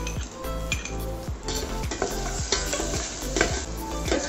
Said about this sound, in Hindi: इसको हल्का सा सौते कर लेंगे।